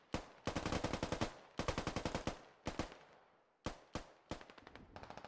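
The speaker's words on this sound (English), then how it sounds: "All firing back and forth with each other, no close-ups yet." Rapid bursts of automatic gunfire in the military shooter game Squad. Several sharp volleys are separated by short pauses, and the shooting is heard alone with no talk.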